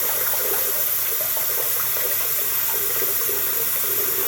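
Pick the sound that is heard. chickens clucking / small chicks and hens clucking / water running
water running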